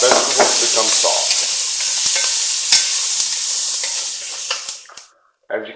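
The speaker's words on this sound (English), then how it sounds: "now we're going to add in our onion, bell pepper, and jalapeno" Onion, bell pepper and jalapeno frying in a pot for short rib chili, a loud close sizzle with stirring scrapes that drops away near the end before briefly returning.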